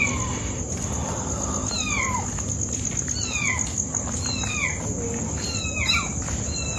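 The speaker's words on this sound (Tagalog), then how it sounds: "may makikita kayong pusa" Hungry cats meowing in a cold cemetery at night, several repeated meows from more than one animal, fairly close, over a constant high insect drone.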